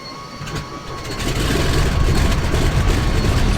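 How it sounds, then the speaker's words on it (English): Right radial engine of a Grumman HU-16 Albatross starting up in X-Plane 10, a quieter whirring crank that builds after about a second into a loud, rough, steady engine rumble. "You can actually see here he's going to start the right engine."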